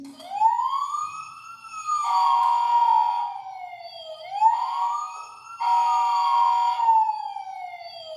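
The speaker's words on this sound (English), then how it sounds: "Toy fire engines," A wailing siren sweeps up and down in slow repeated cycles, alternating with a buzzy electronic yelp, steady and close like a toy.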